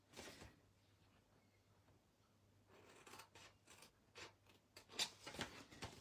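Scissors snip through card along scored fold lines while a tea bag canister box is being made: one short cut, then a run of quiet, uneven snips, faint and close with no talking.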